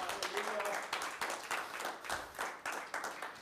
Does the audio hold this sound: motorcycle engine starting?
no